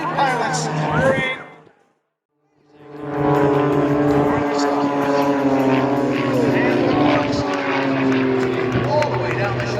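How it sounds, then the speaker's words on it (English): Propeller aerobatic aircraft performing a corkscrew formation routine at the Boundary Bay airshow, a loud droning engine with shifting pitch that fades out briefly, then swells back up over a commentator's voice. "Very complicated flying now as both of the wingmen roll around and around the inverted pilot's brain"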